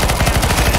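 Rapid automatic gunfire in the shooter game CS:GO Zombies: a loud, continuous burst of closely spaced shots, right up front, with no pause and no voices.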